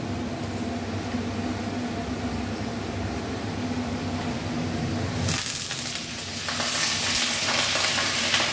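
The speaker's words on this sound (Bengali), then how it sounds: "এখানে আমার আলুগুলো ভাজা হচ্ছে।" Potatoes and eggplant fry in a pan with a continuous loud sizzle that shifts and brightens partway through, as if more food were added, with no talk.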